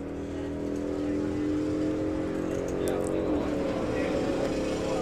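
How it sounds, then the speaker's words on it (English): A drag racing car at Santa Pod Raceway drones loudly and continuously under full power, its harmonic engine note holding steady and then dipping and shifting near the end of the run. "heard the engine note dip at the top end as well there"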